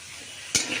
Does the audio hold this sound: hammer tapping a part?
no